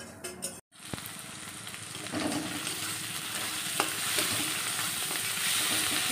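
Eggs fry in a pan in a home kitchen, giving a steady, close sizzle that swells after a quick clatter at the start. Occasional scrapes and stirring clinks sound over the continuous hiss.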